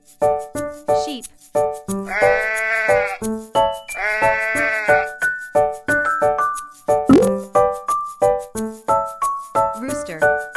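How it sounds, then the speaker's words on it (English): Sheep bleat in two drawn-out, quavering cries, loud and close, set against a steady, plinking children's tune with a rattling beat. "Sheep."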